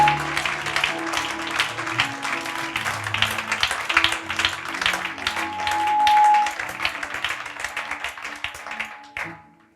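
A church congregation claps and cheers together, steady rapid applause with voices mixed in, swelling and then cutting off abruptly near the end.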